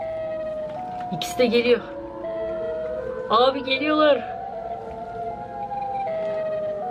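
A rising and falling siren wails steadily in the background of the Siren Head video game, with someone speaking excitedly in Turkish over it and brief bursts of louder noise.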